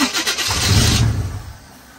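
A new starter on a 1980 Chevy K30 truck cranks the engine loudly for about a second, then the sound fades away, close by and with no talking.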